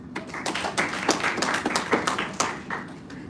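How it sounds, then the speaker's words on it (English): Applause from the audience at a press conference for the Durban 10K race: a moderate patter of hand claps with some sharper individual claps, steady for about three seconds and then easing off toward the end. "let's give a warm round of applause to KwaZulu-Natal Athletics"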